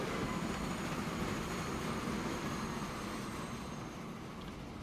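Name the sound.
train with iron ore arriving, from a video game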